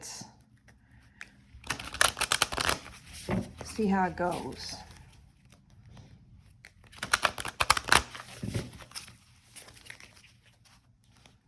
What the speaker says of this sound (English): we're just gonna watch live how I shuffle and what comes up here